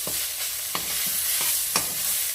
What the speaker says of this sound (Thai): จะผัดก่อนนะคะ เดี๋ยวจะเติมน้ำลงไปนะครับเร่งไฟเลยค่ะ